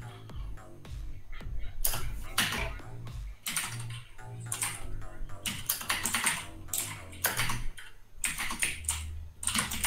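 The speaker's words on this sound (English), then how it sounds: "Typing sounds thick." Computer keyboard typing, fast and continuous with dense clicking keystrokes in uneven bursts, close and fairly quiet, with faint low background hum and brief pauses.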